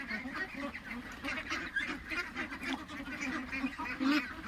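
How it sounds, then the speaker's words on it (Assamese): Multicoloured domestic ducks quack and honk continuously in a dense, nearby flock, their overlapping calls steady and loud with no pauses. "এটা মাল্টি কালার হাঁহ আছে"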